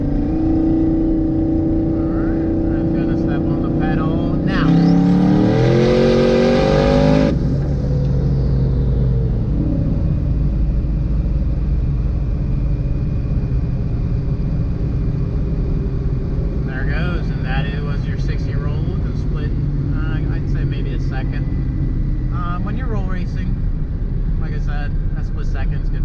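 Car with a PBH 4R200 transmission accelerating hard from a 60 mph second-gear roll race, steady loud engine and road rumble from inside the cabin with a brief rising whine partway through.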